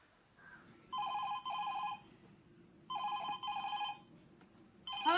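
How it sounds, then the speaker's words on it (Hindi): A telephone rings in repeated electronic double bursts, three rounds with short pauses between, fairly clear against a quiet background. "देखो किसका फोन आ रहा है"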